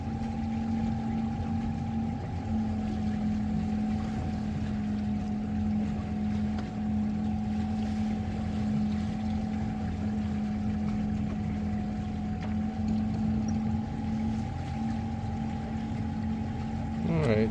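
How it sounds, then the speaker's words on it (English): An electric boat motors across open water near North Haven Island, speeding up: a steady, continuous hum with a constant tonal whine over the rush of water and wind, close and unbroken throughout. "So I'm going to speed up a little bit because I want to keep this going at 5 knots."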